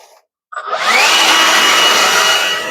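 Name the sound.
leaf blower blowing debris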